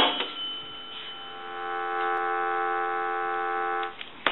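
A steady, faint electronic dial tone hums continuously from the handset of a Northern Electric three-slot payphone, with a few small clicks at the start and end.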